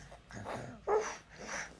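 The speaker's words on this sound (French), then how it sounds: "Oui, c'est le chien." A dog makes a few soft whines and one brief high yelp, quiet and close, in short separate bursts.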